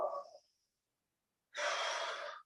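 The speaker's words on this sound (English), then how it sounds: "Breathing in for half a circle" Two distinct breaths during arm-circle exercises in a kettlebell workout: a short exhale at the start, a pause of silence, then a longer, louder breath drawn near the microphone.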